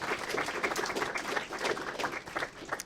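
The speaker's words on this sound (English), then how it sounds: "I want us to give a solid round of applause to our wonderful panelists today" A round of applause for conference panelists, faint and somewhat distant, with many hands clapping in a steady patter that holds for a few seconds.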